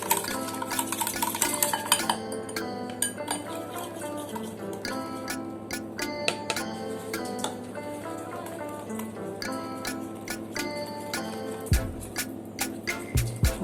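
A whisk beats cake batter of maida flour in a bowl, giving a steady stream of quick, light clinking and tapping strokes against the bowl, close and fairly quiet, with a few sharper knocks near the end.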